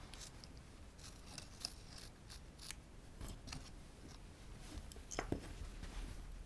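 Scissors snip through the fabric of an IKEA dish towel in a series of quiet, close crisp cuts with small rustles in between.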